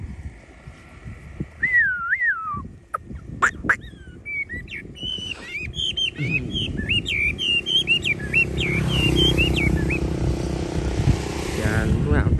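A hwamei, the Chinese melodious laughingthrush, sings in 8°C cold, giving a clear run of varied whistled phrases and trills close by, with rustling handling noise and a low background rumble rising toward the end.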